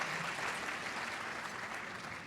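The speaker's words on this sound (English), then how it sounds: "that deserves applause" Steady, dense audience applause at a women's fund luncheon, continuous and even throughout, fairly faint as if heard from across a banquet room, with no voices standing out.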